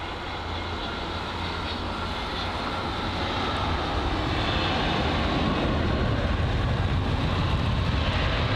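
Jet airliner engine roar at London Heathrow, a steady broadband rumble that swells slightly louder toward the end, with no voices over it.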